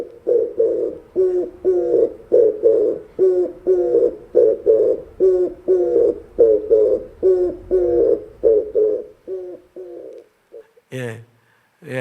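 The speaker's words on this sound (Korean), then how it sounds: "비둘기 우는 소리." Pigeon cooing repeats in a steady rhythm of low, throaty coos, about a dozen phrases close and loud, tapering off before a brief voice at the end.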